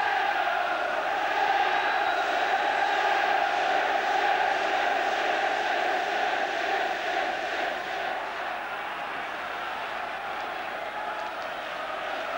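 Large football stadium crowd of about 33,000 at Liverpool v Newcastle United in an FA Cup third round match, a steady distant roar and murmur filling the whole stretch.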